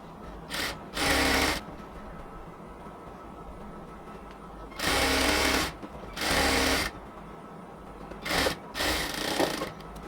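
A sewing machine stitches a luxury cotton kamiz in several short, separate bursts of rapid needle chatter, with low background murmur between them.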